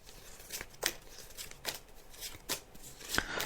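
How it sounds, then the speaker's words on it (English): Tarot cards being shuffled by hand, a series of quiet, crisp riffling flicks repeating roughly every second, close and soft, heard alone with no talking. "I'm just shuffling the cards now"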